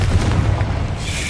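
A Confringo blasting spell exploding in the Harry Potter game Hogwarts Legacy, a short, loud, deep boom with rumbling low end fading over about a second.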